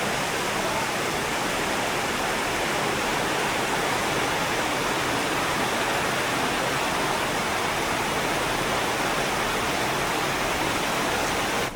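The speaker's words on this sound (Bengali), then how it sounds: "প্রচুর বৃষ্টি হয়েছে।" Heavy rain pouring after hot weather in a village, a constant loud wash of falling water that stays dense and unchanging, with no talk.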